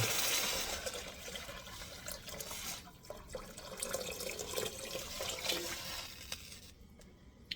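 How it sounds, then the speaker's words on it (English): Water is poured from a tap into a pot for Filipino pork bola bola soup, a steady splashing stream that runs for several seconds and then cuts off near the end, with no talking. "so I'm gonna add water"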